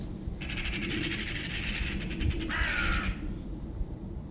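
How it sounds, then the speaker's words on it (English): In woodland, crows mob a predator with a long, harsh, grating caw followed by a shorter rasping call, set against a steady low outdoor rumble. "crows having a fight with a predator"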